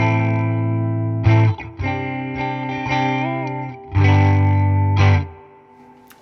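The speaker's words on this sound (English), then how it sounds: "let's try those same settings with the triangle waveform" An electric guitar runs through a Catalinbread Many Worlds phaser set to its triangle waveform, playing sustained chords and notes in a few separate phrases with a swirling, sweeping tone and slight grit, close and clear with no talking.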